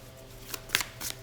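A deck of tarot cards is shuffled in a few quick, soft riffling bursts, quiet and close with no talking.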